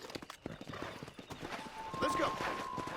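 Horse hooves clip-clop in a steady rhythm across open ground in the video game Red Dead Redemption, close and clear, with a brief whinny and people talking over the hoofbeats.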